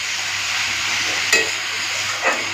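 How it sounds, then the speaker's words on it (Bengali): Cabbage tossed with spices in a hot pan, a steady close sizzle with a couple of brief stirring scrapes. "একটুখানি নাড়াচাড়া করে নেবো মানে ভালো করে মিশিয়ে মিশিয়ে ঢাকা দিয়ে রান্না করে নেবো"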